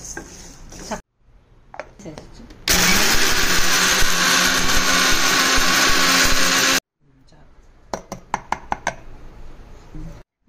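A mixer grinder roars loudly and steadily for about four seconds, grinding spices into powder for a fish curry, with quieter kitchen clatter and clicks before and after.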